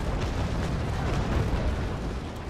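Heavy cannon broadside from a sailing warship in the Naval Action game: a dense, continuous rumbling roar of overlapping blasts that holds loud and steady throughout, with no speech.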